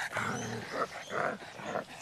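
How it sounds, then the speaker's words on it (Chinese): A short-nosed French bulldog pants heavily up close, letting out a steady run of rough, rhythmic breaths at a quick pace. "这小狗啊，鼻子好短，走路大喘气儿"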